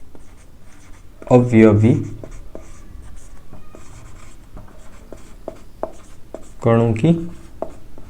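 Chalk or marker strokes from a teacher writing chemistry notes on a board during a Hindi-language lesson, two short bursts of scratchy writing between stretches of steady classroom speech.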